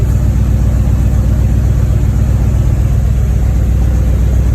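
Car engine idling at about 800 rpm, a loud, steady low rumble with an even pulsing throb throughout and no voices.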